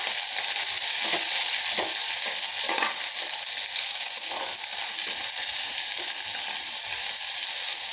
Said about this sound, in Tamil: இப்போ நம்ம வெங்காயம் போட்டுக்கலாங்க. நல்லா பொரியுதுங்க.